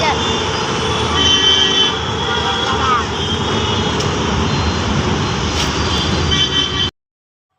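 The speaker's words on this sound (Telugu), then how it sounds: "ఇక్కడ మెట్రో ట్రైన్ కూడా వెళ్ళిపోతుంది" A metro train passes by a skywalk at Uppal, a loud, steady rumble with a rising whine and a tonal squeal, heard close and continuous before cutting off abruptly.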